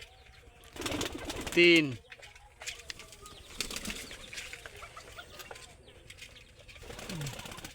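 Pigeons, a King and Grizzle cross among them, flap their wings in a quick burst with soft cooing and rustling nearby, while someone talks and counts.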